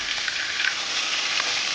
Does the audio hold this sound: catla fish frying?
yes